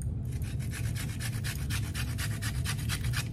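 Rapid rhythmic rasping of a lemon half being scraped over a zester, a steady run of about fifteen quick close strokes with no talk.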